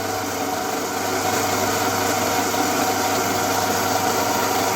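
A pellet mill runs with a steady mechanical drone and grinding rumble, close and continuous throughout.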